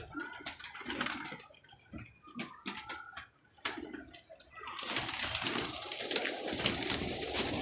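Pigeon, freshly caught that morning and handled up close at a home pigeon show, cooing in soft low bursts amid rustling handling noise, with louder broadband noise filling the second half.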